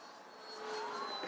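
An E-flite Habu STS 70mm EDF RC jet at full throttle, a steady high-pitched ducted-fan whine with a sustained airy roar, rising slightly as it passes, with no talk.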